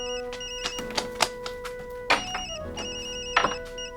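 A telephone rings in an animated children's series, a steady ringing tone running throughout, joined by scattered knocks and clatter in a busy indoor scene.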